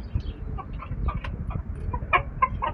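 Chickens on a treeless desert farm cluck in short, scattered calls over a low background rumble, a few sharper squawks standing out toward the end, close by and with no speech.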